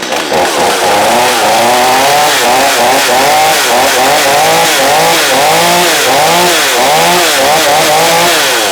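A flooded chainsaw fires up and keeps running after being unflooded, a loud close two-stroke engine buzzing with rhythmic rising and falling revs throughout, with no talking.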